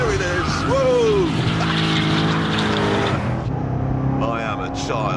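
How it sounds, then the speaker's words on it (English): A Corvette Z06 spins its rear tyres, the engine roaring loud and close while a rising tyre squeal and skid cut in and out, ending in a quieter stretch with a brief squeal. "Already I've converted most of the rear tyres into smoke."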